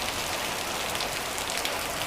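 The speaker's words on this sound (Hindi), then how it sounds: "अभी फिर से बारिश शुरू हो गई है" Rain falls steadily in an Uttarakhand village just after a hailstorm, large drops making a dense, even hiss that stays loud and unbroken throughout.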